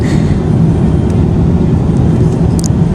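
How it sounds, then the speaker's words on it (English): An airport shuttle bus runs in a car park with a steady, loud engine rumble and road noise that carries on the whole time, with no voices. "We actually have to take a shuttle bus to get us to the airport"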